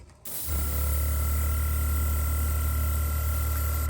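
An airbrush sprays paint onto a 1/35 scale figure. After a brief quiet start, a steady close hiss runs without a break, over a low constant hum.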